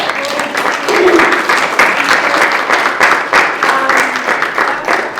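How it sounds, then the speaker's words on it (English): Loud, sustained applause fills a room at a community climate adaptation presentation, many people clapping together with some crowd voices and chatter underneath. "let's have another round of applause for Kip."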